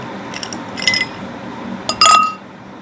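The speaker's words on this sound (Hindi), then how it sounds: "3 बर्फ़ के टुकड़े डाल दिए।" Ice cubes dropped one by one into a glass for plum juice, three sharp close clinks, the last the loudest, against a quiet kitchen background.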